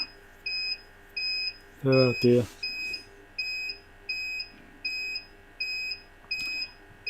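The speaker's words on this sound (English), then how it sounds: "It beeps like that when the power's almost run out of the UPS." A UPS reserve battery pack running near empty gives a regular series of short, high, pure electronic beeps, about two per second, while a voice briefly speaks partway through.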